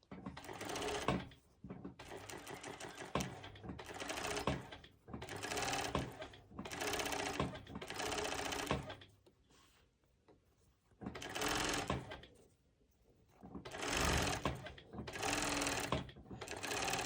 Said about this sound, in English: I will just continue the stitching, the top stitching in the same way.